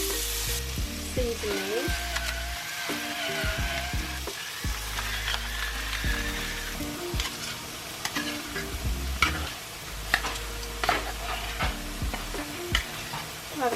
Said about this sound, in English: now we're going to saute our vegetables for a few minutes.